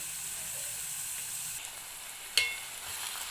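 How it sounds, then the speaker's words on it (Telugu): Onions frying in hot oil for a prawn curry, a steady moderate sizzle with a sharp clack of a spoon or pan partway through, no voices. "ఆయిల్ వేడైన తర్వాత ఆనియన్స్ అయితే వేయాలి మొత్తం ఆనియన్స్ వేసిన తర్వాత"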